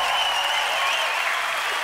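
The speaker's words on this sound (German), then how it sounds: "Nochmal ein großer Applaus für den deutschen Chor" Audience applause for a German choir on a live TV show stage, a dense steady wash of clapping filling the whole stretch without voices.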